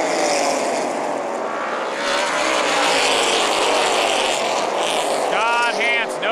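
Dirt-track race cars at New Paris Speedway run side by side in a 100-lap race, their engines roaring loud and steady as they pass, with a race announcer talking over the noise.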